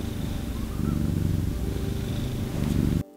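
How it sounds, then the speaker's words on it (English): A gray cat purrs steadily while being petted indoors, a low continuous rumble close to the microphone with a faint whine above it, cutting off abruptly at the end. "now that she's inside, she'll purr if you pet her"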